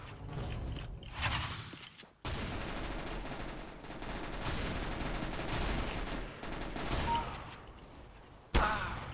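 Rapid automatic gunfire in a Counter-Strike: Global Offensive deathmatch, several sustained bursts separated by short gaps, loud and close, with a sharp shot at the end.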